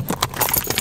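A bunch of keys jangles close up in quick metallic clinks and rattles lasting under a second, with no voices.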